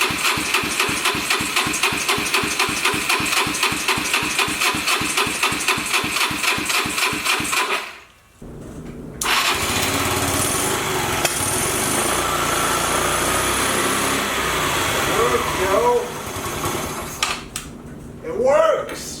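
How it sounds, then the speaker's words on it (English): A wrecked scooter's small engine, fired up by jumping the starter, runs with a steady, fast idling chug, then cuts off abruptly and gives way to rough clattering and hiss. "now I'm going to try starting stuff by jumping the starter"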